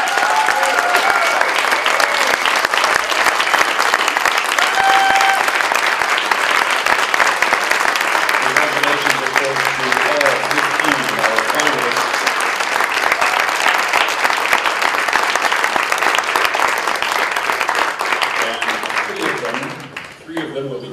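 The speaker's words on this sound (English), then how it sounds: "Let's give all of our young poets a round of applause for both rounds 1 and rounds 2." An audience at a Poetry Out Loud youth recitation contest claps steadily for the young poets, a dense, sustained round of applause filling the room for about twenty seconds before it tapers off near the end.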